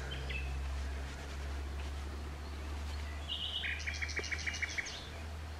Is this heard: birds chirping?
yes